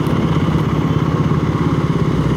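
Steady engine drone of a 2B-class motorcycle ridden on Singapore roads, a continuous loud rumble with road and wind noise and no gaps.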